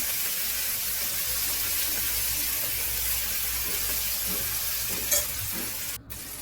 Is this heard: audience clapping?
no